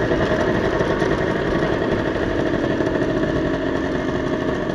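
A V80 motorcycle engine runs close by with a continuous, fairly even buzzing drone and little change in pitch, and no voices are heard.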